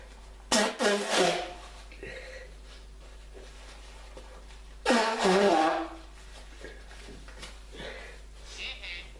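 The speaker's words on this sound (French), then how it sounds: "Je vais juste me moucher le nez, ça va être un petit peu fort." Two loud, wet nose-blowing honks a few seconds apart, close up, with quieter sniffs and rustling between them over a steady low hum.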